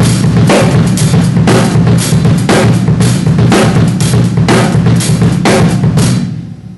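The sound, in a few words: drum kit playing foot triplets offset in 16th notes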